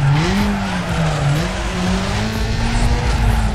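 A Peugeot 106 drifts in Need for Speed Underground 2 with a continuous engine drone and sustained tire squeal whose pitch rises and falls through the slide.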